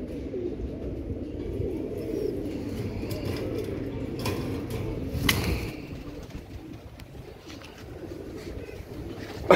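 A pair of Bichu breed pigeons coo in low, soft, rounded calls, repeating steadily at close range over a background murmur.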